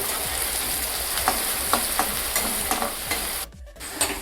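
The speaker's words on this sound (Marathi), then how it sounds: "तर फोडणीला मी आता कांदा टाकते आणि हे लसूण. तर ह्याला सोनेरी कलर येईपर्यंत परतून घेते." Onion and garlic frying in hot oil for a tempering, a dense steady crackling sizzle up close with periodic stirring scrapes and a momentary dip near the end.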